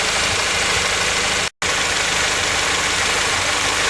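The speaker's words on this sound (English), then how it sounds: "tighten the distributor down and shut the engine off" A Honda Prelude engine idles with a steady, even mechanical hum that cuts out for a split second partway through and then resumes. No one speaks.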